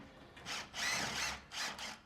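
A power tool unbolts the exhaust system of a Land Rover Series III V8 in a workshop, whirring in three short, fairly close bursts separated by brief pauses.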